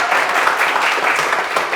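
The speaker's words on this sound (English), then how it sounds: "That was a big round of applause" Live audience at a property market update event giving a round of applause for themselves, a steady wash of many hands clapping, moderately loud and continuous through the short stretch.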